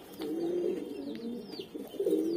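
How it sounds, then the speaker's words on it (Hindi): Low, soft coos of a golden-eyed Kaldum pigeon repeating in a steady rhythm, close by, with faint bird chirps in the background. "अच्छा क्वालिटी का कबूतर है"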